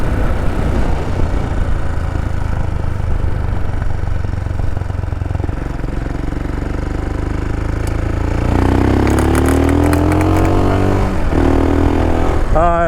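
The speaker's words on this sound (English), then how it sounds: "Can you all hear the engine? It's got that, I think it was called Lex-Tech pipe." Royal Enfield Himalayan motorcycle fitted with a big bore kit and Lex-Tech exhaust idling nearby, then revving and pulling away with rising engine tones over faint background talk.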